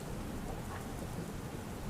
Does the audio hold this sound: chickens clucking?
no